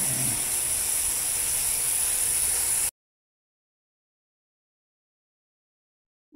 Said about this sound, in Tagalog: Yung chicken feet, ayun, kumukulo-kulo na